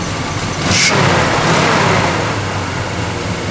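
A 1971 Dodge Demon with a cammed engine rolls along the road, its motor swelling briefly then holding a steady, fairly loud drone under broadband road noise.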